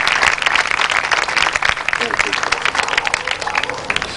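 A church congregation applauds during a Pakistani Christian sermon service, a dense, loud wash of clapping that runs throughout, with a voice speaking over it.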